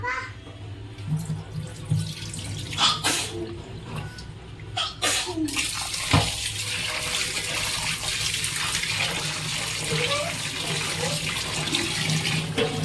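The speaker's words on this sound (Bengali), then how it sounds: "এটাকে আমরা ভালো করে ধুয়ে জলটা ঝরিয়ে নেব" Water runs and splashes steadily as raw chicken pieces are rinsed by hand in a bowl, with brief handling noises early on, then a continuous gushing stream close by.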